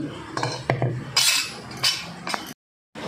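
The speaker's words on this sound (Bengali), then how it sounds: "আধা ঘন্টা পরে আমি ঢাকনাটা খুলে নিচ্ছি" A metal lid comes off a pot holding a rested batter of potato, semolina and rice flour. A few close clinks and scrapes of metal ring out, then the sound cuts to a brief silence before resuming. No voices are present.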